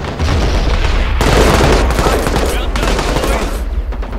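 A machine gun fires in a Vietnam War video game set at the Battle of Khe Sanh in Medal of Honor. The loud, dense bursts run almost nonstop, with heavy booms underneath.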